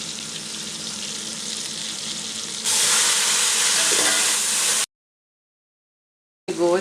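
Chopped green chillies hit hot oil in a pan of beef pulao base with tomatoes, and a loud, close sizzle rises sharply as they go in, then cuts to silence before frying resumes.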